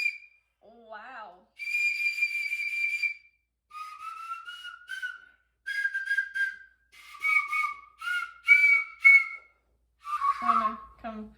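A new, chunky whistle blown in a run of short tonal blasts that shift pitch, each a second or so long and separated by brief gaps, fairly close and clear.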